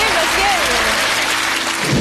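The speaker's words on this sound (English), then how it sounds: "Give them a round of applause." Studio audience applause on a television game show, a broad wash of clapping running under a presenter's voice before swelling louder at the close.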